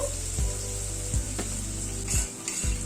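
Onion sizzling gently in a hot pan as part of a chicken dish, with a steady frying hiss broken by a few soft scraping stirs.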